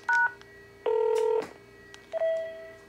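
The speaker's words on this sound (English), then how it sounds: "so if I start a call, I can dial 203." Touch-tone DTMF beeps as three digits are keyed on a Panasonic cordless phone on a VoIP system, three short steady dual-tone bursts spaced apart over a constant low line hum, no talking.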